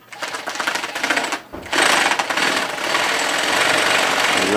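Sewing machine starting up with a brief stutter, then running continuously in a fast, close mechanical whir that holds steady to the end.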